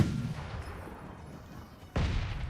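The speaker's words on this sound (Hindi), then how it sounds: "उस पे मैंने रॉकेट छोड़ा" A rocket launcher fires at an enemy in the mobile battle royale game BGMI. A sudden loud, broadband blast bursts in near the end over a low rumbling game background.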